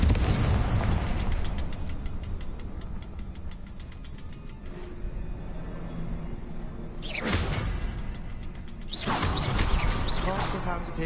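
The Confringo blasting spell in Hogwarts Legacy bursts with booming explosions: a heavy rumbling opening, then two sharp blasts about two seconds apart near the end, loud and close amid ongoing combat noise.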